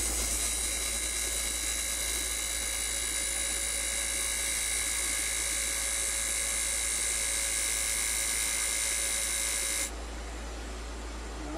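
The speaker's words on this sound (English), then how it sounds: "take my little mini skew and I'm going to put that step in there" A wood lathe spins steadily with a high, continuous whine while a mini skew chisel cuts a step into a wooden chess pawn, loud and close, then the tone shifts near the end.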